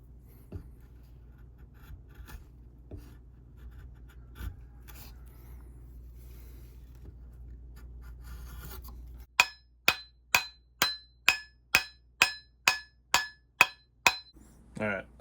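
A blade shaves wood off a battle axe handle with soft scraping at first, then about a dozen sharp, evenly spaced rasping strokes in a steady rhythm, close and alone with no talking.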